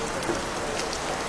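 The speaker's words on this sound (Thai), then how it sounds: "ตอนนี้ฝนตกแล้ว" Steady rain falls outdoors during a Buddhist fish-release merit ceremony, a continuous dense hiss of drops on surfaces with no voices.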